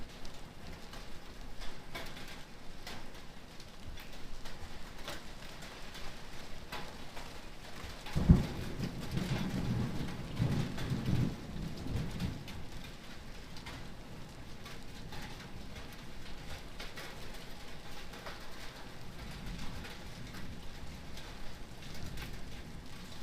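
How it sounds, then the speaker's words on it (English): Pea-sized to marble-sized hail falls during a Texas thunderstorm, a steady dense patter of pellets on surfaces that briefly swells louder midway, heard at a distance, with no voices. "You can hear some hail, finally. A little more like peas, though."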